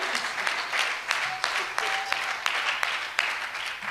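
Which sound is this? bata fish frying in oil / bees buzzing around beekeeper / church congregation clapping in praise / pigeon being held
church congregation clapping in praise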